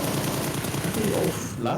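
Rapid automatic gunfire from the mobile battle royale game PUBG Mobile, heard during a school esports match. The close, dense bursts play under an excited commentator's voice.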